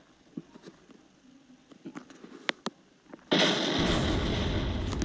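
Sparse scattered pops and thuds from a tank video game, then a sudden loud sustained burst of machine gun fire taking over for the final seconds.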